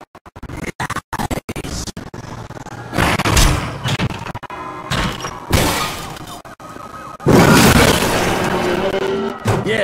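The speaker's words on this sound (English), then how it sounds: "Something happened. I don't know, big explosion." A big explosion goes off in the video game The Darkness II, heard as loud, broad blasts and crackling bursts between choppy gaps, with a long roaring swell near the end.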